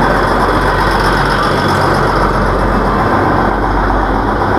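Matheran toy train with two engines, one at the front and one at the rear, giving a steady, loud, low rumble that drones on without a break.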